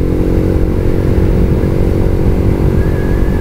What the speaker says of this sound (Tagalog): Naiba ang hatak nitong motor na to